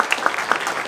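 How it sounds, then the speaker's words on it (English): Audience applause for Hall of Fame inductees at the 2019 Modeling & Simulation Hall of Fame induction ceremony, a short burst of steady, dense clapping. "Let's give our inductees a round of applause."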